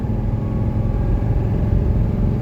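A 1985 Mercedes 300D diesel drops a gear on kickdown, giving a steady, loud, low clattering rumble heard from inside the car, with no talk.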